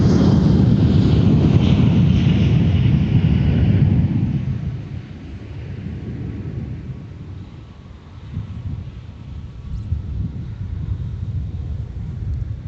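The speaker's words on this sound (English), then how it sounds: "Here Southwest getting off runway 4 with a 737-700." A Southwest Boeing 737-700 departs runway 4 at Minneapolis–St. Paul airport, a loud, deep jet roar that dominates at first, then fades to a softer, distant rumble with wind buffeting the microphone.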